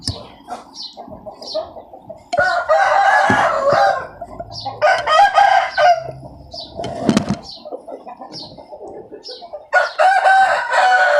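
Chickens cluck in short bursts while a rooster crows loudly several times nearby, with brief stretches of quiet in between.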